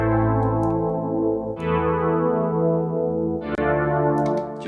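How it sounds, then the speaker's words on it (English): Sustained synth pad chords made with the Harmless synth in FL Studio 20 shift in two steps, each held note washing out with a spacious, lingering large hall reverb tail; no voices. "And then we're gonna add a large hall in the reverb."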